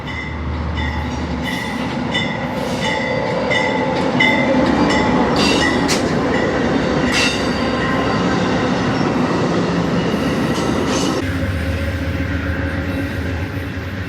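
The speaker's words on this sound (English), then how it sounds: "Leading Amtrak's Borealis was a B32-8. We're going to see it rounding the curve just south of the depot at Hastings." An Amtrak Borealis passenger train led by a B32-8 locomotive rounds a curve near the Hastings depot, a loud sustained roar of engine and rolling wheels with rhythmic clatter, passing close by for the whole stretch.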